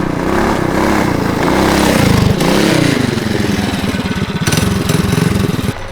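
A custom-built mini trike's engine revs in a steady, fairly quiet drone, with one brief dip, then rough chugging pulses as the throttle eases. It stays close and continuous for about six seconds.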